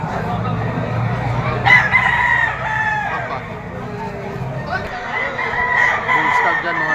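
Bull stag roosters crowing at a gamefowl farm in Lipa City, Batangas, several overlapping crows rising and tapering, fairly close, with someone talking in the background.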